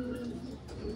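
A racing pigeon gives a soft, low coo over about a second, close and fairly quiet, with faint talking around it.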